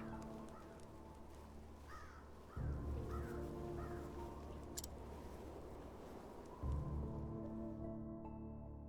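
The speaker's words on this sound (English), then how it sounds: "As we hear crows cawing in the background." Crows caw repeatedly in a video game scene from Octopath Traveler, several short calls spaced through the clip over a steady low musical and ambient bed, with no speech.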